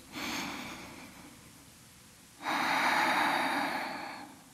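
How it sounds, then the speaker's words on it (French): Two slow, deep breaths taken during a gentle vinyasa yoga session, each a long airy inhale-exhale, the second louder and fuller, close and alone with no talking. "On prend 3 grandes respirations ici."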